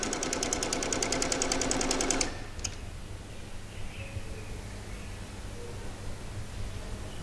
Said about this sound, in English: When you get to the corner, pivot, turn, and continue stitching.